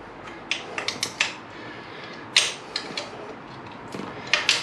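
Loosening a pinch bolt on a 1998 Kawasaki ZX9R motorcycle frame, a series of sharp, close metallic clicks and ratcheting ticks in short irregular bursts over a quiet workshop background.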